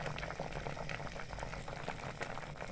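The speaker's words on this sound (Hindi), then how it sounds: "एक तार का शीरा बनने तक हम इसको पकाते रहेंगे।" Sugar syrup with carrots bubbling on the stove for carrot murabba, cooking down toward one-thread consistency; a soft, steady, close rolling boil with dense small pops.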